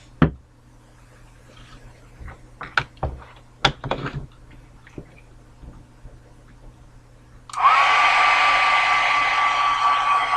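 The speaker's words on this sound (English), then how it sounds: "So now I'm just putting everything with the heat gun." A heat gun switches on partway through and blows hot air steadily and loudly over a Christmas envelope mini album, after several seconds of light tapping and handling noises.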